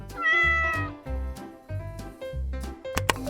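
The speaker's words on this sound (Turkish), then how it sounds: "Sıradaki hayvan sevimli bir kedi." A cat meows several times in a row, clear and close, each cry rising and falling, with a brief clatter at the end.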